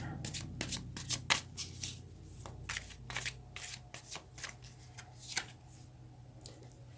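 Tarot cards being shuffled in the hands, a rapid series of crisp riffling and flicking bursts with soft slaps, close and fairly quiet, with no talking.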